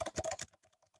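A quick burst of computer keyboard typing, several rapid close keystrokes followed by a few sparser, softer clicks trailing off.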